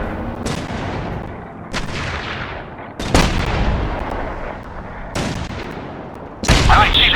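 Loud, widely spaced gunshots ring out in The Saboteur, a 2009 PC game, during a fight with a rooftop sniper above a square, with about five sharp cracks each trailing into a long echoing decay.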